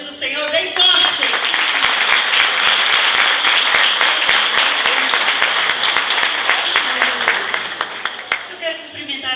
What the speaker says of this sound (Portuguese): Vamos receber ela aplaudindo o Senhor bem forte.